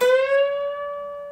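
A single sustained electric guitar note, bent past its target pitch, rings clearly with strong overtones, slightly sharp and held steady as it slowly fades, no other sounds.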